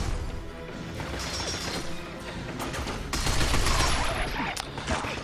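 Gunfire blasting robots in the video game Binary Domain: rapid, continuous bursts of shots and metallic crashes form a dense, loud barrage that stays steady and heavy throughout, with no voice over it.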